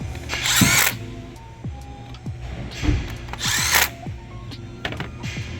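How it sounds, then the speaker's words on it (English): Power tool driving a bolt on a 2011-2016 Chevy Cruze 1.4T engine during spark plug replacement, with two loud whirring bursts separated by a pause, plus small clicks and handling noises around them. "Now let's tighten the bolt."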